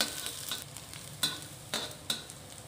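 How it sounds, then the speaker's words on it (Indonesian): Onion stir-fried in a pan for sweet and sour tempeh crackles with a continuous sizzle, broken by several distinct scraping strokes of a spatula at an uneven pace. "Saya masukkan bawang bombay. Tumis sebentar."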